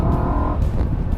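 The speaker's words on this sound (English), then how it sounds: "the motor that we're experiencing right now, which is the V8 motor." A BMW M3 with its V8 engine runs loud and close, a steady deep rumble with a sustained drone that drops off partway through, no voices over it.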